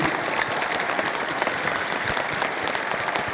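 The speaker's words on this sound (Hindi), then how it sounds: "एक बार ताली बजाएंगे मात्र 10 सेकंड के लिए" Audience clapping hands together at an indoor gathering, a dense, steady burst of loud applause from many people that continues without a break throughout.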